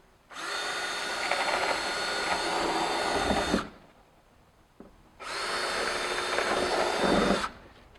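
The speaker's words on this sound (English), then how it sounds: "you're going to use a 1/4 inch drill for that, pre-drill" A power drill pre-drills quarter-inch holes for attachment screws on a basement wall finishing system, running in two bursts of about three seconds each with a steady whine and a short quiet gap between them.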